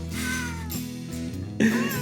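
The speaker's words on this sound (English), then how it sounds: "you just have these cats yowling and screeching over the top of this entire" Cats yowl and meow in pitched, sung phrases over a backing arrangement of a traditional Christmas tune, from a Christmas album, with a sharper, louder yowl near the end.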